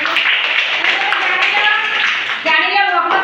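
Children clap their hands in a sixth-grade classroom during a maths lesson on fractions. The clapping is steady and close for about three seconds, with voices mixed in.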